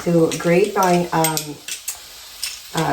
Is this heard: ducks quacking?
no